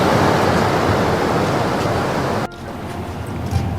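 Sea waves surge and wash along the shore at Kavaratti in Lakshadweep, a steady broad roar of surf, close and fairly loud, that drops slightly in level partway through, with no speech.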